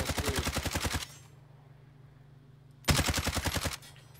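Two close bursts of rapid automatic gunfire in a video game, each lasting about a second and separated by a quiet gap with a low hum, sound crisp and loud, with no speech.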